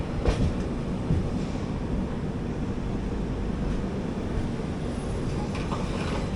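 Kakinada Port - Sainagar Shirdi Express, train 17206, running on its way from Vijayawada toward Shirdi, a steady loud rumble of wheels and carriage with faint rhythmic clatter throughout, no voices.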